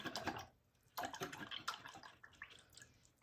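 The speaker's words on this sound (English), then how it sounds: "I'll rinse that off a little bit." Paintbrush rinsed in a water container while painting, a faint series of small splashes and swishing bursts, close and quiet, in short irregular clusters.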